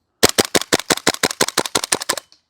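A KWA Tac-9 airsoft gun firing on gas, a quick burst of about fourteen sharp, close, evenly spaced shots that ends with a faint hiss.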